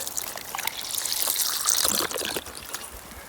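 Water pours steadily for a dog in a gentle trickling stream, swelling briefly in the middle before easing off, with no talking.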